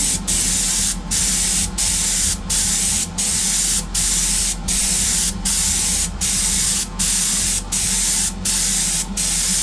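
Airbrush with a wide-open nozzle blasting thin base-coat paint onto Greek style vases, a loud steady hiss broken into regular bursts about once a second, with no talk.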